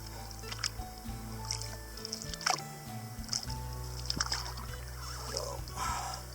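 A canoe is hauled over a beaver dam in the Boundary Waters, with scraping, knocking and wet squishing sounds in close, irregular bursts over a low steady background, plus a faint voice.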